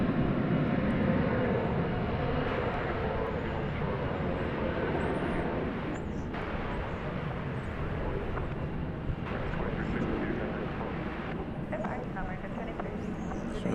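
An airliner arriving at DFW Airport after a nearly 13-hour flight from Auckland, its engines a steady, loud roar that fills the whole stretch without letup.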